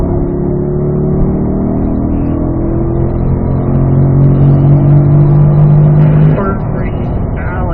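Race car pulling hard in fourth gear on the Spring Mountain North Course, a loud, steady engine tone climbing in pitch as it accelerates, with faint talk riding over the roar.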